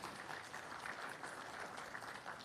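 Steady audience applause at a corporate IPO conference, welcoming a bank chief executive to the stage; dense, even clapping from a sizable crowd held at constant volume with no voices over it.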